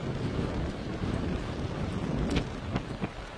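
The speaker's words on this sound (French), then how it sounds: "On entend le vent dans les environs, dans les zones boisées là." Strong gusts from storm Benjamin roar through a wooded park in Isère, a continuous rushing wind with buffeting against the microphone and a few sharper swells.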